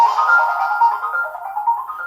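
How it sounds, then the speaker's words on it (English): A Netvue ORB camera sounds a clear electronic ding-dong chime during Wi-Fi setup: a short, steady, bright two-note tone heard alone and close. "Did you hear the ding dong?"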